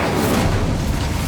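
A dense, booming fiery burst as the Incendio spell strikes a boiler in a Hogwarts Legacy mine, loud and continuous for about a second.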